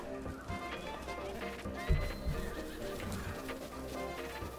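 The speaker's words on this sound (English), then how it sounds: "Oh, catch that wild horse." A wild horse neighing in Zelda: Breath of the Wild, a sharp whinny rising over a steady background of game ambience and hoof clopping, fairly near and moderately loud.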